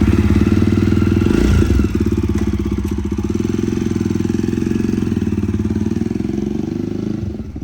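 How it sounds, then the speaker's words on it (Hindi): A Jawa Bobber 42 motorcycle is started on the electric starter without throttle, catching with a brief burst and then settling into a steady, close, loud thumping idle. "अगर आपको इस बाइक को स्टार्ट करना है तो यहाँ पे हमें सेल्फ देते टाइम बिल्कुल भी रेस नहीं देनी है।"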